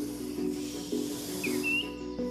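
A king cobra, an alert venomous snake, hisses in low, breathy pulses that rise and fade several times, close and fairly steady, with a faint high chirp briefly over it and no talk.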